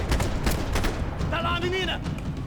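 Rapid gunfire bursts from a Max Payne 3 video-game shootout crackle through a dense, noisy mix, with a voice talking over the shots.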